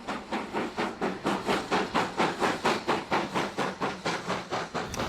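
A British Railways Standard Class 4 steam locomotive hauls a train up a steep 1 in 67 gradient, its exhaust beating in a steady rhythm of loud, regular chuffs with hissing steam throughout.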